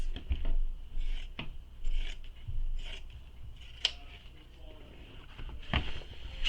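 Scissors trim down the fabric seams of a tote bag before boxing the corners: a series of short, crisp snipping and rasping cuts, close and fairly quiet, spaced irregularly across the moment.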